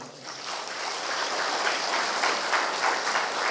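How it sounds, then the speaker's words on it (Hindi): Audience applause at a spiritual class, a steady wash of clapping that swells slightly and continues evenly throughout without speech. "तालियां थोड़ा बजाइए।"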